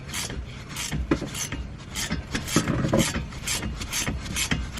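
A wrench works loose the two 13mm rear brake caliper bolts on a 2011-or-later Dodge Charger R/T, a run of close, rasping ratchet clicks and metallic grinding strokes repeating steadily with no talk.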